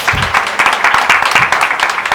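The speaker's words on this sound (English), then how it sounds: "the ambassadors, big round of applause" Audience applause at a women's run event (JBG Invincible Women's Run with Pinkathon) for the ambassadors, a steady dense patter of clapping from a crowd throughout, fairly loud and close.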